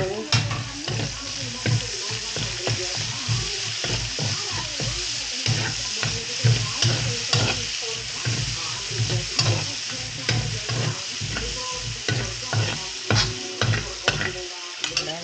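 Onion fries in hot cooking fat in a pan, crackling and sizzling up close while being stirred with a spatula, giving rhythmic scraping clatters throughout.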